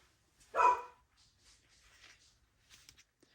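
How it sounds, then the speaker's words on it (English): A single loud dog bark rings out, followed by quieter rustling and faint scratchy sounds in an otherwise quiet room. "Oh boy, Chi-Chi hears the pup next door"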